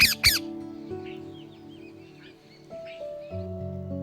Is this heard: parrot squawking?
yes